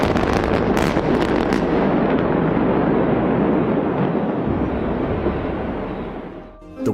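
Explosive demolition of the Ponte Morandi bridge in Genoa, a loud, sustained roar of blasts and crackling rumble that fills the whole stretch and eases off only at the very end.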